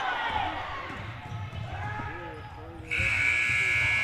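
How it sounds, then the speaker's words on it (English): At a boys varsity basketball game between Houston and New Knoxville, the third-quarter buzzer blares loud and sustained after a stretch of announcer commentary and ball bounces, then holds to the end. "And that is your third quarter buzzer."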